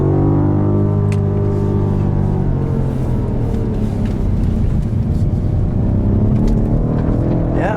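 A BMW M5 Competition drifts on a race track with its engine droning loud and close. The engine tone sweeps down and back up under a constant roar of tire and wind noise.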